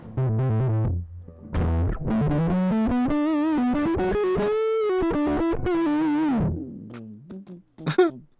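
Heavily distorted, fuzzy guitar tones with buzzing harmonics, a sustained bending note in the middle, then short choppy bursts near the end.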